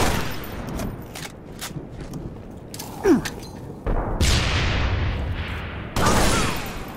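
Gunfire in Halo Reach: scattered shots and bursts with booms and mechanical clanks, some quick fusillades, loud and close, with a pause before heavier firing resumes near the end.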